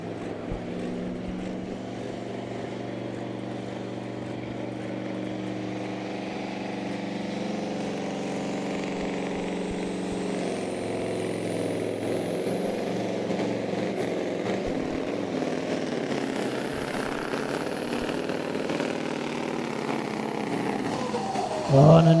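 Supersport pulling truck Evil Deceiver in the 4.5-ton class at a tractor pull, its engine droning loud and steady, then climbing in a long rising whine that holds high until the end, where a sudden burst comes.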